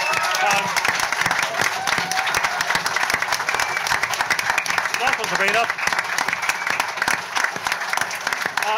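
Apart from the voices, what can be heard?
audience applause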